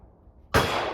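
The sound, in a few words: rifle gunshots at a shooting range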